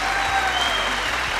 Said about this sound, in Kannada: ಒಳ್ಳಿ ಚಪ್ಪಾಳೆ